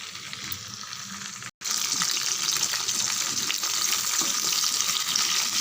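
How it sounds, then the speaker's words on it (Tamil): Okra sautéing in a pan of oil for a tamarind curry gives a steady, fairly loud broadband sizzle, cut by one brief silent gap, then continuing evenly with faint stirring scrapes and no voices. "நல்லா வதக்கி எடுத்துடலாம் ஃப்ரெண்ட்ஸ்"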